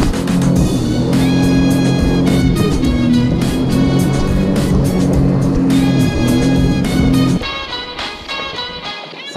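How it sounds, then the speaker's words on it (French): A jet ski engine idles, then revs up, a loud steady tonal drone with strong harmonics held close for several seconds before dropping to a rougher, quieter idle near the end. "là, le jet fait 2 bips. Je reste appuyé et il va démarrer."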